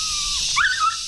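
Young female puppies whimpering at a rural Filipino property, high thin whines rising and falling over about a second, close and fairly loud with faint rustle behind.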